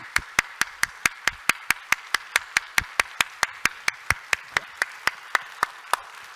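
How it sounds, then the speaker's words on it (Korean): Slow, evenly spaced single claps ring out sharply one after another in a church congregation's welcome, about twenty crisp hits in a steady beat, loud and close over a quiet room. "여러분 뜨거운 박수와 함성과 발걸음으로 환영합니다"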